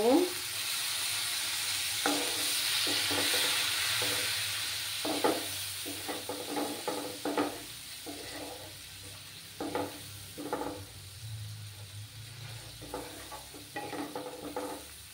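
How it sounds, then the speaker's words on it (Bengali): Vegetables sautéing in a pan with a splash of water, coriander powder spice mix: steady sizzling hiss throughout with repeated scraping stir strokes, close and moderately loud, no talk. "এইভাবে কিছুক্ষণ আমি কষিয়ে নেব।"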